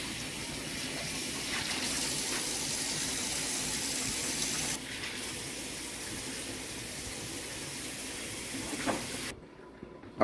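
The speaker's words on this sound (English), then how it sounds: "take this opportunity to wash the jars out really well with soap and water" Water gushes from a tap into glass jars being washed with soap before pickling, a steady hissing splash that dips midway and cuts off near the end, leaving a brief quieter moment.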